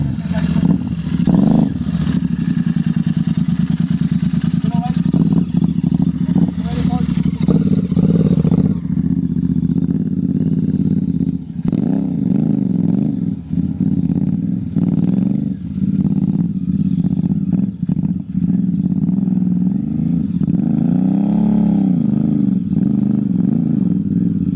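Motorcycle engine running loud and steady as the bike is ridden out on a group ride near Leopard Trail, Gurgaon, with voices heard over the continuous drone.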